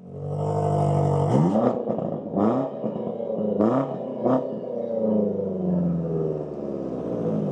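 In SV mode, a Range Rover Sport SV's 4.4-litre V8 is blipped repeatedly, several quick snarling rises and drops over a deep idle, followed by a long throaty settle, close and loud.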